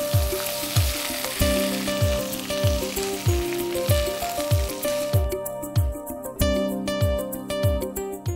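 Drumstick leaves fry in a pan for a coconut curry, giving a continuous sizzle broken by regular scraping strokes of a spoon stirring them, close and prominent with no talk.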